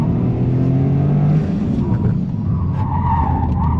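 A Toyota GR Corolla pushes through a track corner, its engine droning loudly with a steady low tone while the tires scrub and howl under understeer, the squeal rising and wavering near the end.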